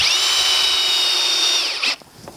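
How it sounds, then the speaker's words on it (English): A power drill pre-drilling a hole during a drop shade installation whines steadily at high pitch for almost two seconds, then winds down and stops, leaving a few faint clicks. "make your mark and then pre-drill this hole as well"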